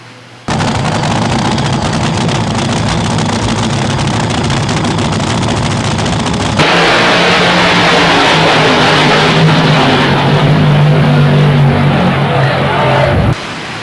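A supercharged built engine with upgraded intake and exhaust roars loud and steady on a dyno for about thirteen seconds. It climbs to a harsher, fuller pitch partway through the pull before cutting off abruptly.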